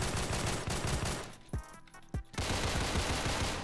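M45A1 rifle gunfire in the online shooter Phantom Forces, a dense continuous rattle of rapid shots that briefly pauses with a couple of sharp isolated cracks before the heavy firing resumes.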